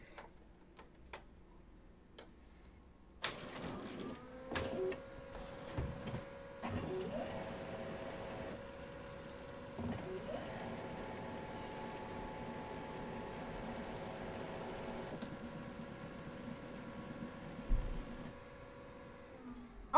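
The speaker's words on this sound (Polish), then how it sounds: "Dobrze, to właśnie uruchamiamy drukarkę." An OKI C332 color printer, just repaired, whirs into life with a steady mechanical hum, punctuated by clicks and ticks as it moves through its startup cycle.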